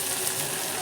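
Vegetables for veg pulao fry in a pan over low gas with a soft, even sizzle. The moment is brief and steady, with no talking over it.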